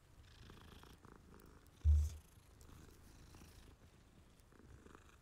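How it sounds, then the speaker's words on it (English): A cat purrs inside the video game Hogwarts Legacy, a low steady rumble under quiet ambient game sound, with one brief louder thump partway through. "Pretty cat."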